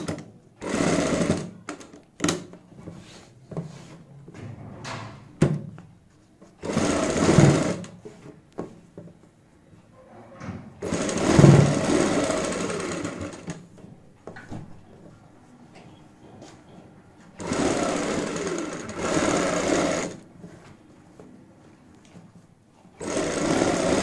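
A sewing machine stitches a neck design in several bursts of rapid mechanical whirring, close and moderately loud, with quiet gaps and small handling clicks between runs.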